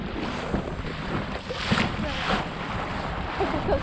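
A dinghy driven by an ePropulsion Spirit 1.0 Plus electric outboard moves quickly through the water, with steady rushing water, splashing and wind buffeting the microphone close by.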